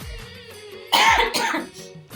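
One harsh, close cough bursts out after a quiet moment, trailing off into a rough breathy rasp.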